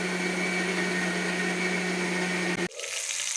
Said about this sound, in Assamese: এতিয়া এইখিনি মই গ্ৰাইণ্ড কৰি ল'ম